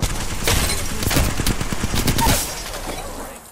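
Rapid gunfire crackles through an Apex Legends match, bursts of automatic shots close and loud, easing off toward the end with no voices over it.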